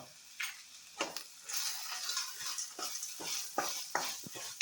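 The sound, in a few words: spices such as black pepper roasting in a pan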